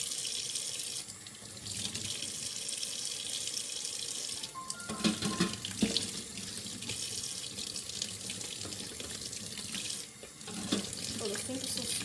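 Water runs steadily from a tap into a small sink, a continuous hiss and splash with brief clatters of items being handled in the basin, close by and with no talk.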